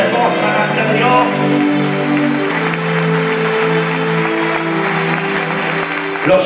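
Church congregation applauding during a Spanish-language sermon, steady sustained clapping mixed with strong sustained musical tones and voices throughout.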